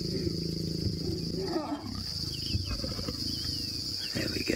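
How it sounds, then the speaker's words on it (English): A mating pair of lions roars at dusk, low and fairly distant, over a steady background of chirping insects. "They're mating."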